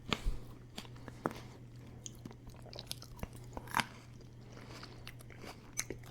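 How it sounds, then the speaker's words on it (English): Close, crisp bites and crunching on grapes, with irregular sharp crackles and wet chewing over a steady low hum, no talking. "That was a good crunch."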